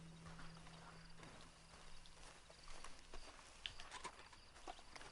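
Horse hooves clip-clop steadily at walking pace in Red Dead Redemption 2 Online, soft and close amid faint game ambience.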